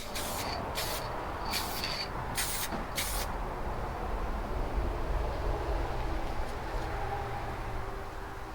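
Five short hissing bursts of spray paint are applied to a hung, roughened and cleaned part, each a loud, close spurt, followed by a steady low background rumble.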